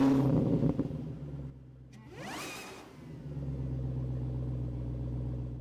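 A 2026 Toyota 4Runner TRD Pro rolls out of a driveway over a gutter, a steady low engine rumble with a brief rising whoosh partway through, fairly close and continuous.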